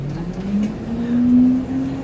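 A free city bus in Kuala Lumpur heading toward LRT Titiwangsa, its engine a steady low drone that swells slightly midway, heard from on board with no talk.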